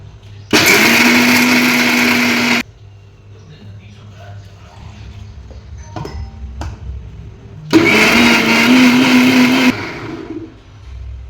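A kitchen mixer grinder blends chutney in two loud, steady bursts of whirring motor noise, each about two seconds long, separated by quieter handling sounds and a brief voice.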